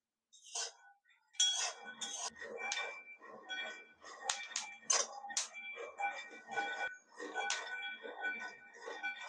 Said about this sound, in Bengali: গ্যাসের আঁচটা হালকা রেখে কিছুক্ষণের জন্য বাদামগুলোকে খুব সুন্দরভাবে ভেজে নিয়েছি